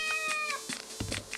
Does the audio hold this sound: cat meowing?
yes